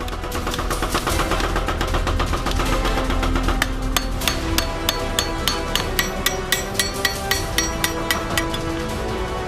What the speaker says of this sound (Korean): 각도를 잡는 동시에 호미의 날이 강해지게끔 망치질로 견고하게 두드리는 것이 포인트